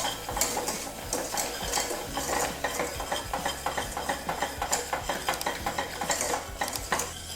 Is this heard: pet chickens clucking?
no